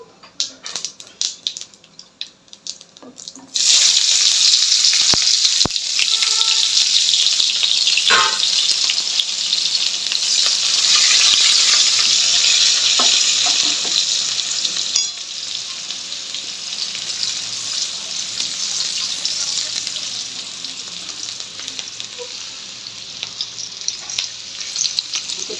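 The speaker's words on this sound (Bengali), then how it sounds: "তেলের মধ্যে অল্প জিরে দিয়ে দিলাম, যে পেঁয়াজটা রেখেছিলাম কুচো পেঁয়াজ সেইটা ভেজে নেব" Chopped onion with cumin seeds drops into hot oil and bursts into a loud, continuous sizzle that stays strong, easing slightly after a while, with scattered spatula clicks, for a boal fish kalia.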